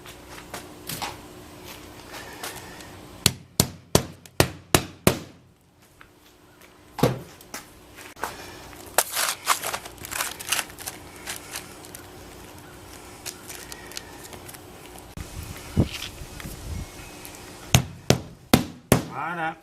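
Hammer blows driving nails while a skylight is installed on a roof, landing in quick bursts of four to six sharp strikes with pauses between, close and loud over faint background noise.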